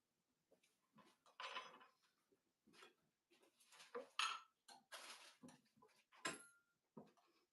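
A spoon clinks and scrapes against dishes in a series of faint, irregular close-up taps and rattles.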